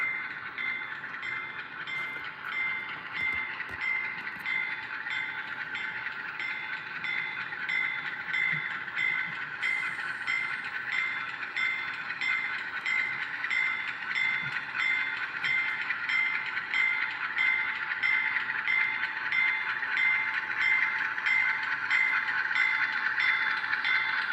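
A train rolling past, a continuous rumble with a steady high metallic whine that slowly grows louder over the long stretch.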